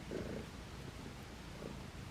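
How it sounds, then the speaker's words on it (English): A cat purrs softly and steadily up close in a quiet, warm indoor space, a low rumbling purr with faint breathy pulses and no talk. "Hear those big purrs?"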